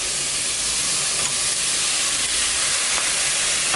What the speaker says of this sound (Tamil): இப்போ தக்காளி பழம் சேர்க்கலாம்